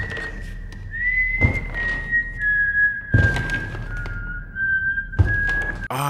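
Man whistles the This Old Man melody in a film scene, a clear sustained single-tone whistle running throughout, interrupted by several heavy thuds and thumps.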